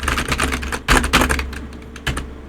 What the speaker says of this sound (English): I personally would recommend getting a keyboard that is a bit on the quieter side.